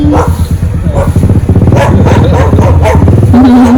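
A puppy barking and yipping in a quick run of sharp barks at a Jamaican beach spot, loud and close, with a whine at the end.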